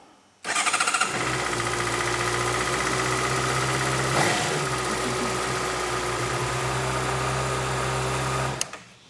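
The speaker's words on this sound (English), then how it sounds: "I'm just going to crank it up, let it idle for a few minutes" A motorcycle engine cranks over and settles into a steady, loud idle close by, running evenly for several seconds before cutting off near the end, with no talking.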